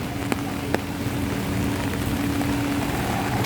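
Steady rain falls on a flooded city street, Taft Avenue, as a dense, even hiss with a low rumble of traffic underneath and a couple of faint sharp ticks.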